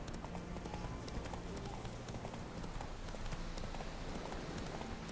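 A horse's hooves clip-clop steadily in The Witcher III, a rhythmic trot that stays faint under dense ambient game noise throughout.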